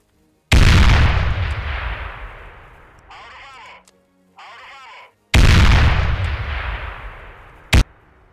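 Explosion and gunfire effects from a toy army men war game: two huge booming blasts with long decaying rumbles, separated by two short radio-like voice bursts, then a single sharp crack at the end.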